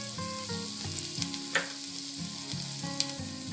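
Cinnamon, cloves, ginger and fennel seeds sizzle steadily in hot oil in a pan for a Tamil tomato curry, with a few brief spatters and clinks over a continuous frying hiss.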